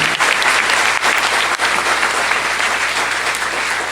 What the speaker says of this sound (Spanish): Dale un fuerte aplauso a nuestro Señor y Salvador Jesucristo por su amor y su misericordia.